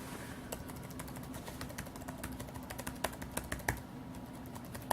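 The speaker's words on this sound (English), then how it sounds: "That's the sound of the keyboard." Steady typing on a Lenovo ThinkPad T430 laptop keyboard, a quick run of light clicky keystrokes with a few sharper taps, close up over a low background hum.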